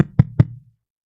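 Two quick firm knocks on a door, close and clear, then silence.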